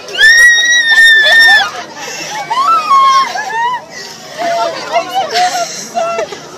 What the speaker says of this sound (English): Unable to contain her emotions, she let out a loud scream, expressing her sheer delight.